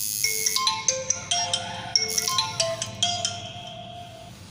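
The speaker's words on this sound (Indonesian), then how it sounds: "telepon WA nya dulu guys." A ringtone plays on an OPPO F3 Plus phone during an outgoing WhatsApp call, a bright melodic tune of repeated chiming notes in a steady rhythm, fairly close and clear, with no talking.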